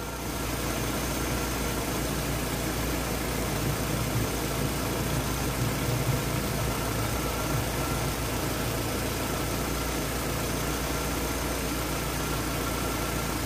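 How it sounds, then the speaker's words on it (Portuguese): A car engine treated with a metal conditioner idles steadily with a constant low hum and faint vibration, no voices over it. "Ele aliviou bem o barulho do motor."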